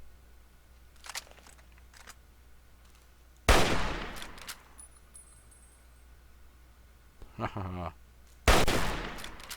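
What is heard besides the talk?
automated turret gunfire in Fallout 3 video game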